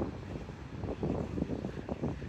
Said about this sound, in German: geht ein bisschen Wind